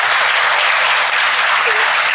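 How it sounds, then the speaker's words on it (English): Warm audience applause for a speaker at a women and climate change talk, a dense, even roar of clapping that runs unbroken and fairly loud through the whole short stretch. "please join me in giving a warm round of applause for Tan"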